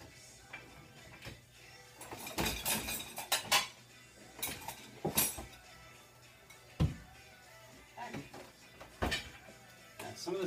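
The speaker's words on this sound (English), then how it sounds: "So I'm going to go grab a bowl." Bowl being grabbed in a home kitchen amid clinking dishes and cutlery, several sharp close clatters and chinks in irregular bursts over a quiet background.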